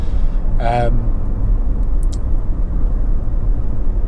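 Honda CR-V 1.6 i-DTEC diesel engine pulling under acceleration as a steady, loud low rumble heard from inside the cabin, with a brief whine near the start.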